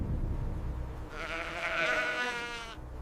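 A single sheep bleats in a long, wavering cry over a low rumbling background, fairly close and clear, with no talking.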